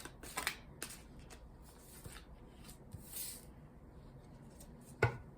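A tarot card deck is shuffled by hand in a quiet room, with soft intermittent riffles and card slaps and a sharper knock near the end, close and fairly faint, with no talking.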